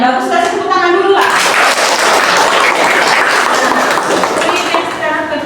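An audience in a pregnancy health class or lecture applauds, a dense burst of clapping that follows a short stretch of speech and then fades slightly toward the end.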